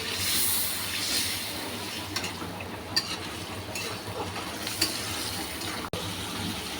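Koel bird eggs fry in spiced oil in a home kitchen pan, a faint, steady sizzle broken by a few light clicks and scrapes of stirring, with no talk.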